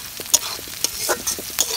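Onions and cardamom frying in oil, a brisk sizzle broken by sharp scraping stirs of a spoon against the pan at a quick irregular rhythm.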